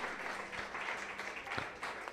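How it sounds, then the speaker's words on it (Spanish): Congregational applause in a church, a steady wash of clapping from a gathered crowd at moderate distance, continuous for the whole stretch with no clear voices on top. "Dale un fuerte aplauso a Cristo"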